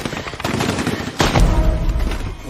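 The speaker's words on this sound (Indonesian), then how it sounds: "Justin mendengar ada suara tembakan" Gunfire in a film battle scene in a forest: rapid bursts of automatic weapon fire, loud and close, with a heavy boom partway through and dense overlapping shots throughout.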